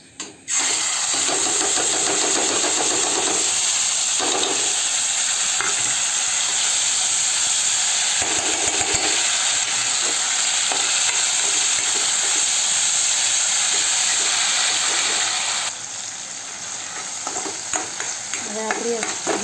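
Gravy for bhungara bateta tempered in hot oil sizzles loudly and steadily from start to finish, close and continuous with steam hiss, intermittent stirring clatter, and a brief settling near the end.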